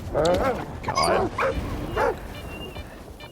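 Dogs in the S.T.A.L.K.E.R. 2 video game bark and yip in several sharp bursts, fairly close and loud, with whimpering tones and a voice talking over them.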